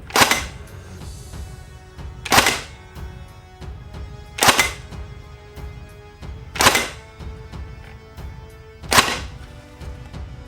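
A Snow Wolf Steyr AUG airsoft bullpup rifle fitted with a Phantom sniper conversion kit fires five single shots, each a sharp snap at a slow, even pace of roughly two seconds, close and loud against a quiet room.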